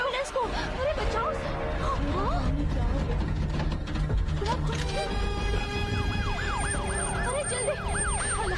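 Ambulance siren wailing in rising and falling sweeps throughout, louder toward the end, under excited talking and shouting voices.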